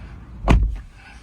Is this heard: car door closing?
yes